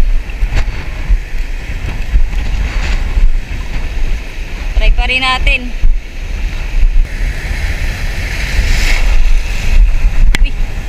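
Big sea waves roll in at the shore, a constant heavy rumble and wash mixed with strong wind buffeting the microphone, while someone talks briefly over it.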